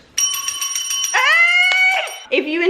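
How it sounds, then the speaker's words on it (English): A bright bell notification sound effect rings in a quick series of clear, loud electronic chimes that step down in pitch, with no talking over it. "Talking about bell notifications."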